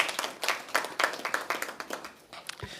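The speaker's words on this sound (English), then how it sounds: "And we should give her a round of applause for her efforts." A short round of applause at a press conference, with distinct hand claps in an uneven, fairly sparse rhythm, heard close and alone for a few seconds.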